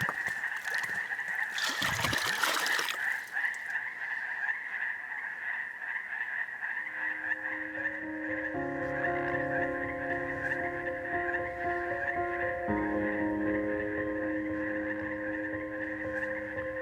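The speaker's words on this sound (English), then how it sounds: "a little ways back you could hear this strange sound. And I stopped, and then was like, frogs!" Frogs croak in a dense, continuous chorus near water, a steady mid-pitched trill that carries through the whole clip, joined later by sustained tonal calls, with a brief rustling burst near the start.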